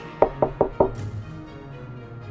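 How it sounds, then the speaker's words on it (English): Four quick, firm knocks on a neighbor's door in the middle of the night, evenly spaced and close, followed by a quiet room hum. "I knocked on their door."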